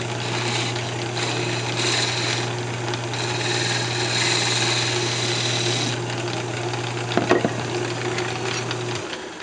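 Wood lathe spinning a piece of wood while a jam chuck is turned from it, a steady close motor hum with faint scraping of the tool on the wood, running continuously and winding down at the end.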